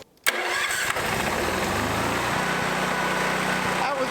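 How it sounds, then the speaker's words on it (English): An electric-start generator engine cranks briefly and catches almost at once, then runs loud and steady at close range without stopping. "As you can see, there's a battery on the unit, so it's an electric start"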